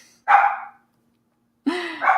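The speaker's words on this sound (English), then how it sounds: "And now my dog is going crazy." A dog barks in two separate bursts, close and fairly loud, with a quiet pause between them and no talking over it.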